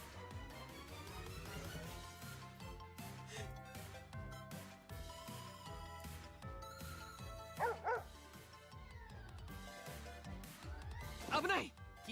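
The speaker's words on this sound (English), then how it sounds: "It's not adorable, but it's a puppy, Drag." A puppy in the visual novel Variable Barricade yaps in two short bursts of high barking over soft game music, with a voiced character line also present.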